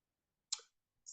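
A single sharp mouse click pressing a generate button in an AI app, crisp and close in near silence, followed by a faint second tick.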